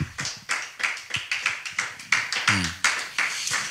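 A church congregation applauds for the Holy Spirit in sharp, fairly regular bursts of hand claps, close and loud, with a brief voice partway through.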